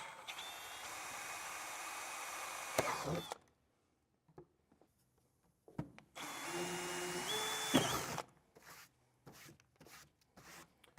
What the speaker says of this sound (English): Now we'll switch from the 1/8 inch bit to a 5/16. I can drill in each of these round sections.